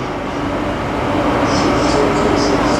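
Steady rumble and hum at an Airport Rail Link station in Bangkok on the Phaya Thai to Suvarnabhumi line, as a train sits or arrives, with a soft airy hiss rising midway.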